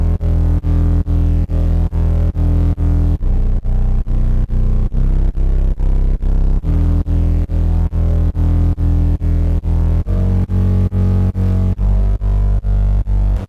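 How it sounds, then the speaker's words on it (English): A swelling Serum synth bass with reverb, drive distortion and sidechain pumps in a steady rhythm, deep and loud, its notes shifting every few seconds with no voice present. "Yeah, so this is just kind of a swelling bass."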